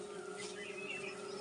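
Honeybees buzz faintly outdoors as they fly in and out of their hive, a soft steady drone with a constant hum running under it.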